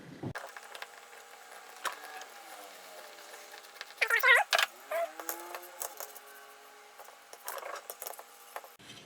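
A screw driven into a driftwood shelf makes faint ratcheting, creaking turns, with a louder burst of grinding in the middle and scattered clicks of the tool, close by and alone in a quiet room.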